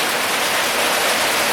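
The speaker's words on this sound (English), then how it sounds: "This is the fastest, most heavy rain I have seen yet this year, this entire year." Very heavy, fast rain pours down steadily on a Michigan homestead, a dense, continuous broadband roar without pauses that stays loud and even throughout.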